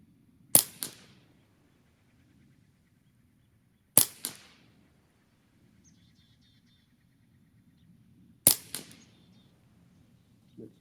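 A Ruger 10/22 rifle fires three sharp, isolated shots spaced several seconds apart. Each loud crack has a short echo tail, with quiet outdoor ambience and faint insect chirps between shots.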